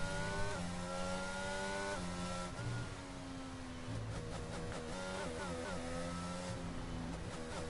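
An F1 car in the F1 22 video game, racing at the Japanese GP, holds a steady, strained engine note that steps up through gear shifts and dips briefly, with faint commentary beneath.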